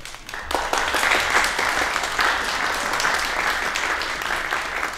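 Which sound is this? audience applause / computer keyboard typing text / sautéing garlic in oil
audience applause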